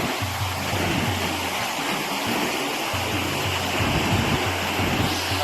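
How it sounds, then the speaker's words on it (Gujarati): Heavy, rushing river water at a temple site, a dense continuous roar of flowing current with steady loudness and a low rumble underneath, close and unbroken throughout. "અહીં નજીકથી તમને દેખાડું પાણી કેટલું જાય છે ને."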